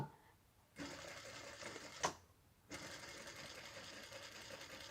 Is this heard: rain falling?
no